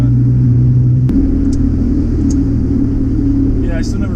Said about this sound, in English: My car does not like to idle with the AC on.